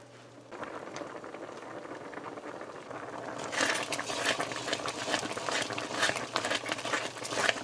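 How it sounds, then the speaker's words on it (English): Vermicelli cooked with evaporated and condensed milk simmers in a pot, giving a soft, steady bubbling that grows busier and more crackly partway through. "we're just gonna let this boil for a bit"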